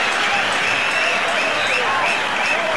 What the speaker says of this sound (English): Buzz around the crowd